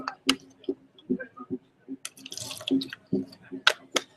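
A paintbrush is rinsed in a cup of water during a live painting session, giving a run of small drips, taps and splashes at close range, with a few louder bursts of swishing water between brief pauses.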